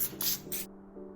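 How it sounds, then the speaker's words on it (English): Cooking spray of butter misted onto a wire rack before potatoes go on, a few short hissing bursts close by, then quiet. "before that, I'm gonna spray some butter."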